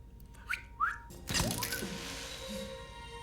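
Two short rising whistles, then a sharp thump and a burst of broadband noise that slowly fades, with faint tones lingering underneath.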